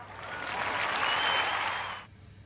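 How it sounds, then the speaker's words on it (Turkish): A short burst of crowd applause used as a sound effect, swelling quickly to a dense, bright wash of clapping and then cutting off abruptly after about two seconds. "Gelsin şuraya alkışlar."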